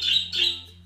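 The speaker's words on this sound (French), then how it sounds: "Je crois que mes oiseaux ils ont décidé de faire la sérénade là aujourd'hui exprès." Pet birds chirp in two quick high bursts close by, a bright twittering call that fades, indoors over a low steady hum with no talk.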